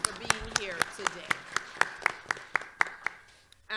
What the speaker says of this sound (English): Please join me in a round of applause to thank our panelists